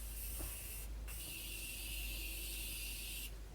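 A sustained spray of fine setting mist from a spray bottle hisses steadily, with a brief pause partway through before the spraying resumes, close and fairly loud.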